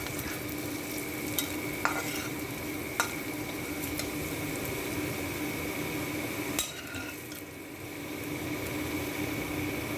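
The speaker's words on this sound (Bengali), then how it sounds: "দেখো আমি পেঁয়াজ লঙ্কাটা ভাজতে দিয়েছিলাম এবং পরিমাণ মতো লবণও আমি এতে অ্যাড করে দিয়েছি" Onions and chillies with salt and cumin fry in a pan with a steady, even hiss, broken by a few sharp spatula clicks and scrapes, close by.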